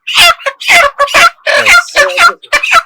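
A chicken on a poultry farm, picked up by hand, gives loud, close squawks and clucks in rapid, choppy bursts.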